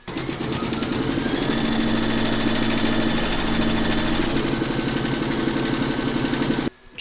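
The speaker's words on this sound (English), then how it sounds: "Pop your hoop into your machine and stitch round number 2 to secure them." An embroidery machine stitches a coffee placemat held in a hoop, giving a steady, close mechanical hum with a fast, even rhythmic chatter that runs without a break for about seven seconds before stopping abruptly at the end.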